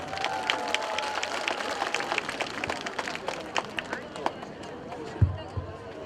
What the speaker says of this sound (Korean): 여러분 박수 한번 주시기 바라겠습니다.